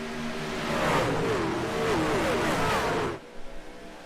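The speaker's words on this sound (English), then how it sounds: "Listen to these trucks. Wind up." NASCAR Truck Series racing video game: several truck engines rev and wind up together in a loud, rising and falling drone, then cut away abruptly near the end, leaving quieter engine noise.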